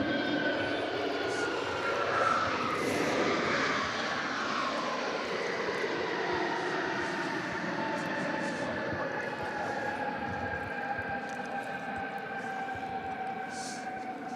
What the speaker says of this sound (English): They're impressive aircraft, the 777-300s, aren't they?